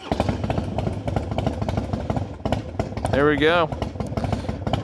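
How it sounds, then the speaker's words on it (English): A 2003 Harley-Davidson Softail Standard with a twin cam engine rumbles close by in a steady low idle, with a brief rising rev-like sweep midway, while someone speaks over it. "I'll let you hear what a twin cam Harley-Davidson sounds"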